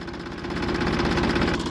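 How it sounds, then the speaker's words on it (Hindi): A tractor engine runs close by on a sugarcane farm, holding a steady, throbbing mid-pitched idle with a slight knocking pulse. It continues alone, with no voices. "अब ट्रैक्टर चलेगा जी।"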